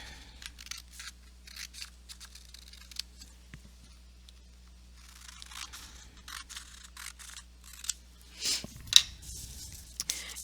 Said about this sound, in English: I'm going to take my scissors and I'm going to cut those apart.